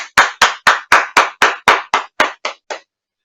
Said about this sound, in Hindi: आप सभी का स्वागत करें जोरदार तालियों